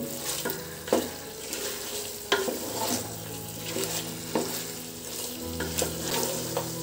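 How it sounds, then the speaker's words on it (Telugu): Chicken sizzling and frying in oil over a medium flame while being cooked for a Karnataka-style donne biryani, a steady close hiss with occasional stirring clatters and scrapes, no talking. "ఒక 5 నిమిషాల పాటు మీడియం మంటలో ఫ్రై చేసుకోవాలి చికెన్ని."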